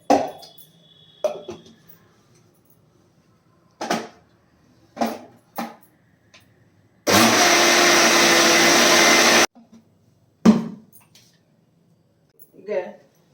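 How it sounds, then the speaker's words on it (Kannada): A kitchen mixer grinder blends rice, poha and buttermilk in one loud, steady whirring burst of about two seconds mid-clip, set between short speech fragments and small kitchen knocks. "ಈಗ ಅಕ್ಕಿ ಮತ್ತೆ ಅವಲಕ್ಕಿ ಮತ್ತೆ ಮಜ್ಜಿಗೆಯನ್ನ ಮಿಕ್ಸರಲ್ಲಿ ಹಾಕಿ ಮಿಕ್ಸಿ ಮಾಡಿ ನುಣ್ಣಗೆ ಮಾಡಿದ್ದಾರೆ"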